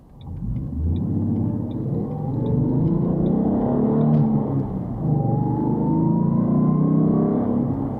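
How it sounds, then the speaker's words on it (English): Ford Mustang accelerating mildly aggressively at around 40 mph, a loud, deep engine rumble rising in pitch as revs build, with a faint rattle and steady road noise throughout. "Accelerating it mildly aggressively in the Stang"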